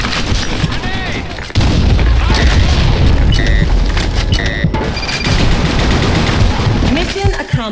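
Grenade blasts and gunfire in the online shooter game BlackShot during a clan war, a dense loud barrage of booms and rapid shots layered over each other with game voice callouts throughout.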